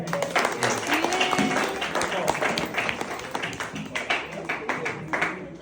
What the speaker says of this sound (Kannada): ಗಗನ್ಗೆ ಒಂದು ಜೋರಾದ ಚಪ್ಪಾಳೆ